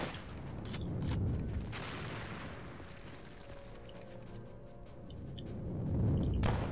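Sniper shots and booming gunfire from Return to Castle Wolfenstein sound faintly as muffled bursts and thumps in a low, rumbling in-game battle.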